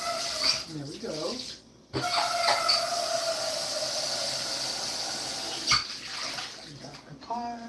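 Tap water rushing into and sloshing around a pot as it is rinsed out, a steady close hiss of running water with brief clinks, and a voice talking over it.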